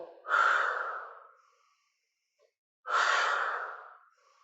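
Two deep, breathy exhales during a Pilates exercise, each a long rushing push of air that fades out, separated by a quiet pause of about a second.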